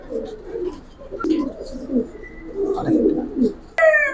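Low rolling coos from silver pigeons in a loft repeat steadily throughout, close and moderately loud, with a sharp higher whistle-like call cutting in near the end.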